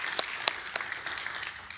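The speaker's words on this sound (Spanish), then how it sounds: "That deserves a round of applause." An audience applauds at a bilingual English-Spanish community gathering, giving a short, steady round of clapping with a few sharper claps standing out, fairly faint and distant throughout.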